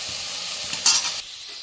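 Mint leaves fry in oil in a pan for mint chutney: a brief, close sizzle with one louder stirring swish in the middle, then settling back to a low hiss.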